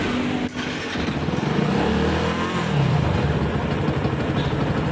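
A Yamaha motorcycle that had sat idle for three months runs close by, its engine idling with a steady throb and rising briefly in a couple of light revs.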